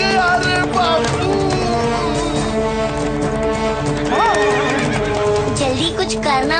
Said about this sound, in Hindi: वरना ये घोड़ा सारे बाजार को मैदान बना देगा